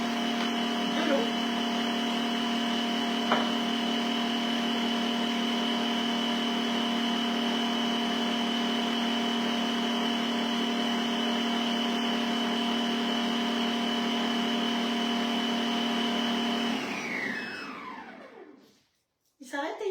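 All Cook food processor robot running at speed 12 with its small bowl, a loud steady whirring motor drone with high whine that holds for most of the clip, then winds down and stops near the end.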